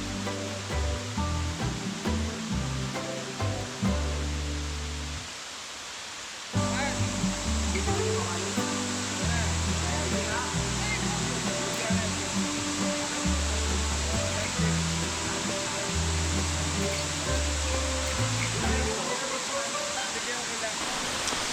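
A waterfall on the Capacuhan Trail in Calbayog roars as a steady, dense wash of falling water throughout, close and loud, with a tonal drone layered over it.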